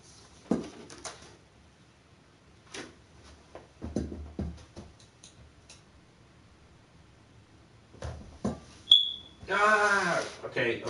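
A battery-powered alarm gives a brief high electronic chirp near the end after its battery was changed, among scattered thumps and handling noise; a voice sounds in the final seconds.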